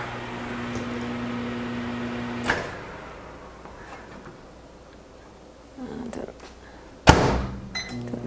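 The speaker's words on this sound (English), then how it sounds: "Another 30 seconds on the microwave." A kitchen microwave oven hums steadily at first, then stops with a click, followed by quieter rustling and a sharp bang of its door.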